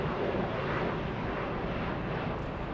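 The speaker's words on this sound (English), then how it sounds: "We'll zoom in to the Asiana A380 taxiing north right now." An Asiana Airbus A380 taxiing at an airport gives off a steady, broad jet-engine roar that stays even and distant-sounding throughout, with no voices over it.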